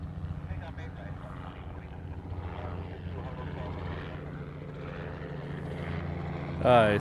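A Southwest airliner departing Honolulu's reef runway, heard as a steady, fairly distant engine roar that holds throughout and rises slightly at the end, with someone talking over it.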